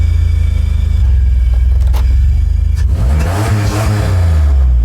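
A car engine revs hard and loud up close, a steady roar climbing and dropping before surging again with a rising whine.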